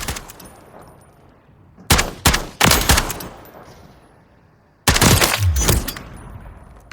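In Call of Duty Modern Warfare III, an AK-458 fires two loud, close bursts of rapid automatic fire. Each burst ends in a fading echo, and no one talks.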